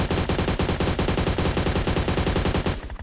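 Rapid automatic gunfire in the PUBG Mobile battle royale, a loud, steady stream of close shots lasting about three seconds before it abruptly stops.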